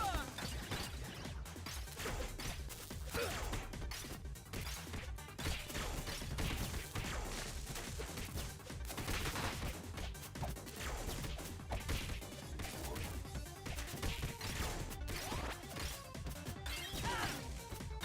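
Repeated missile explosions and crashing impacts in the beat-'em-up game TMNT: Shredder's Revenge, a fairly quiet but continuous jumble of bangs and hits layered over busy game music and effects.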